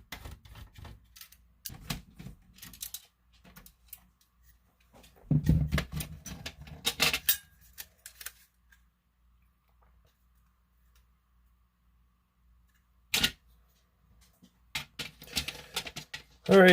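Screws being removed from an N64 console shell, with scattered short clicks, ticks and scratchy rattles of a screwdriver and small parts, close and quiet, in bursts separated by long near-silent gaps.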